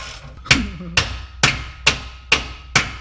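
Six sharp metallic hammer strikes ring out in an even rhythm about half a second apart, each decaying quickly. They come from work on an exhaust clamp at a Pypes mid muffler, close by and loud.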